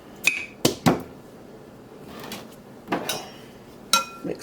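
A spoon clinks a few times against a bowl while baking powder, salt and sugar are mixed for pastry dough, with scattered light taps and a soft scraping stir between them. Close and quiet, with no talking.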